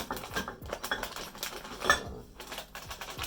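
A knife cuts through chilled homemade cookie dough on a board in a home kitchen, giving a run of close, soft scraping taps and light clinks of metal. The sounds are irregular, and no one speaks.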